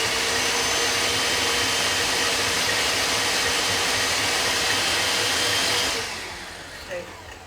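An electric mixer creams butter and brown sugar in a bowl, producing a loud, steady motor whir for about six seconds before it winds down and stops, leaving a faint clink.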